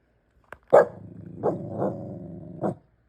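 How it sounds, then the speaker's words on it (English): A corgi puppy guarding a new house barks sharply indoors, a loud yap followed by a low growling run of three or four more close, rough barks over about two seconds. "Stop barking at the neighbors."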